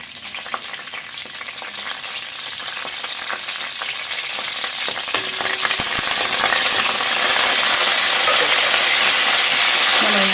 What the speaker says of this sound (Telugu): రెండు బిర్యానీ ఆకులు ఒక ఆలుకాయి ఒక మూడు లవంగాలు వేసేసుకుందాము అలాగే వెంటనే కరివేపాకు కూడా వేసేసుకుందాము